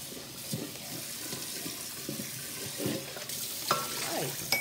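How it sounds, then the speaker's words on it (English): Boiled potato wedges being drained in a kitchen sink, with a steady rush of pouring water and faint clatter at close range, no talking. "So now I'm going to step over to the sink and just, I'm going to drain those as well."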